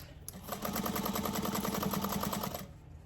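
A sewing machine stitches a seam on a fabric tote bag, running in one steady, rapid burst for about two seconds before it stops, close by and fairly quiet.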